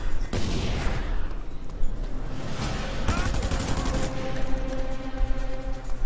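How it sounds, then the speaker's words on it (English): In the open-world game Just Cause 2, gunfire rattles at the player in dense, continuous bursts with booming hits, loud and sustained under background game noise. "Who the hell is shooting at me now?"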